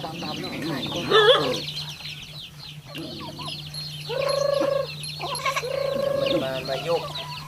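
Chickens cluck and squawk in a village farmyard in Cambodia, several birds at close range, with one loud flurry and longer drawn-out calls, over a steady low hum.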